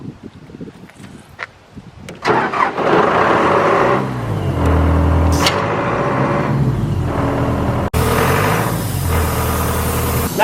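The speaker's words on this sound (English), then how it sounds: "Now we're going to go turn on the air compressor." An air compressor used to blow out a lawn sprinkler system kicks on after some handling noises and runs loudly and continuously, a steady motor roar with a brief dropout near the end.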